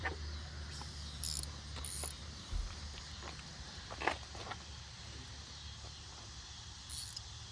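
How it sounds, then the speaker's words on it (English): Mechanical clunks and light metallic clicks as a drive belt is worked back onto the alternator pulleys of a 2006 Ford Taurus 3.0L engine, faint and scattered over a low steady hum, with no talk. "let me put that belt back on now"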